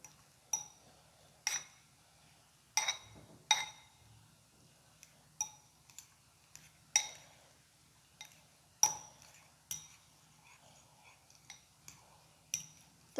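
Butter being mixed in a bowl, a spoon striking the sides in a slow, irregular series of bright clinks and taps against a quiet background.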